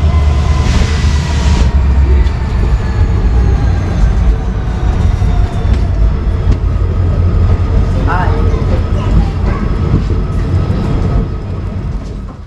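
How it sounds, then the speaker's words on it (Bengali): A passenger train on the Ajmer to Jaisalmer route in Rajasthan pulls into a station, a loud continuous close rumble with a brief high squeal near the middle before it eases off. "অর্থাৎ এখানে 55 মিনিট লেটে ঢুকছে ট্রেনটি"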